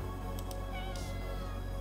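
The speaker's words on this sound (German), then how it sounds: "Boah, diese Katze!" A cat meowing in the horror game Conarium, two short close cries early on over a steady droning game ambience, followed by a brief higher rasp.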